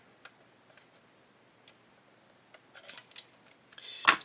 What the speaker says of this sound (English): Should be able to cut up there with a knife.